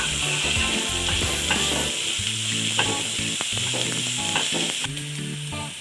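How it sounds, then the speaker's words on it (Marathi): Onion sautéing in hot oil until pinkish and translucent, a loud continuous sizzle with rhythmic spatula scrapes and stirring, close and unbroken by speech. "तेल गरम झालं त्याच्यात कांदा परतून घ्यायचा. कांदा थोडासा गुलाबी होईपर्यंत परतून घेते."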